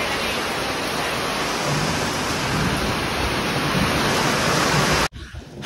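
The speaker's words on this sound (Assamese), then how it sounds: "হঠাৎ ধুমুহা বতাহ বৰষুণ" Heavy rain with wind lashes down steadily and loudly in a sudden storm near coconut trees, a dense continuous roar that cuts out abruptly near the end.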